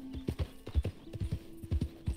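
Horse hooves clop in a steady, close rhythm in the video game Red Dead Redemption 2, with a faint sustained whinny-like tone running beneath the footfalls.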